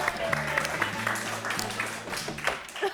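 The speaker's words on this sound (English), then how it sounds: "Give her a big round of applause." An audience claps in a room, giving a short burst of applause. The clapping is steady and mixed with some speech and background musical tones.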